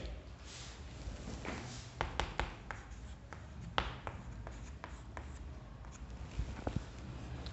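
Chalk or marker tapping and scratching on a board during a maths lesson, a run of sharp close taps and short strokes with quiet room noise between them.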